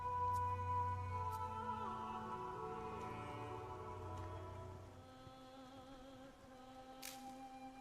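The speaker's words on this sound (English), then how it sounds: "it's raining" Steady rain falls in the game Daemonologie, a soft continuous patter that holds evenly throughout, with a game music tone running beneath it.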